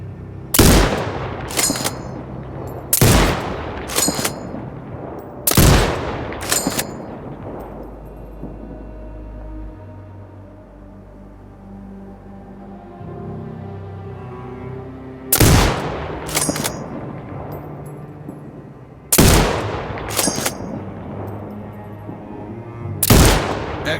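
Sniper rifle shots in the military shooter Sniper Ghost Warrior Contracts: sharp, loud cracks fired in pairs, a cluster early on, then a long quiet stretch with low ambience before more widely spaced shots with echoing tails.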